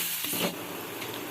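Sliced onions sautéing in a pan with salt for an anchovy dried-fish dish, giving a steady close hiss of frying with a brief stir-like bump near the start.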